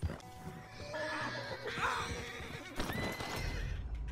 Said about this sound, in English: You're such a good horse, Bessie.